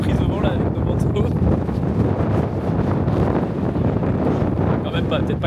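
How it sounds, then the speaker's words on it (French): Strong gusts whip through Gjógv in the Faroe Islands, pounding the microphone with loud, continuous, rumbling buffeting that barely lets up. "on est sur des bonnes bourrasques là quand même"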